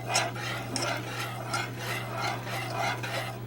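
A spoon stirs turkey gravy in a pan over low heat, making steady, rhythmic scraping strokes against the pan under a constant low hum.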